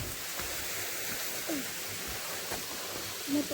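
A waterfall on a mountain hiking trail near Puncak Hanjawong gives a continuous, fairly distant rushing hiss that holds steady throughout, with no clear talk.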